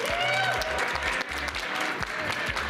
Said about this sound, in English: a huge round of applause for our Stuttgart Regional Champion, Arnie!